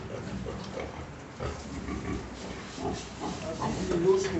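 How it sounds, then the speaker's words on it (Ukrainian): Pigs grunt in low, irregular snorts close by, with a person talking over them at times. "Оце такі у нас свинки"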